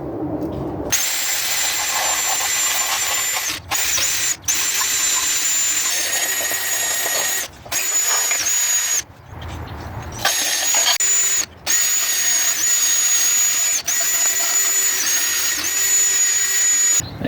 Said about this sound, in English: we'll just clean these up with a drill and wire wheel